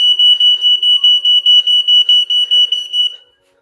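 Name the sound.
smoke detector alarm test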